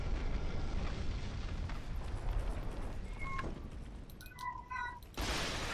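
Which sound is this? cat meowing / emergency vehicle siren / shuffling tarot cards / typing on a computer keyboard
cat meowing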